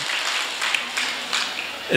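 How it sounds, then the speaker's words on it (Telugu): Audience applause at an agricultural sustainability forum welcoming the keynote speaker, a steady wash of clapping from a crowd filling the whole stretch with a few sharper claps standing out, no voices over it. "మరి ఒకసారి ఆయనకు ఒకసారి చప్పట్లు కొట్టి ధన్యవాదాలతో మనం ఆహ్వానించడం అనేది జరుగుతుందన్నమాట"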